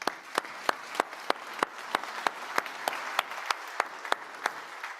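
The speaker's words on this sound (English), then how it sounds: "Another round of applause." A large audience at the World Food Forum grand opening claps, with a few sharp, regular nearby claps standing out over a softer spread of applause.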